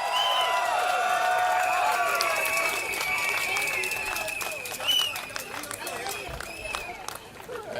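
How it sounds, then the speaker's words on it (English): Crowd at an evening political rally for the SDP in Marsiling-Yew Tee clapping and cheering, a loud sustained wash of applause with whoops that slowly tapers off, and a voice coming through underneath. "Young people, give yourselves a round of applause."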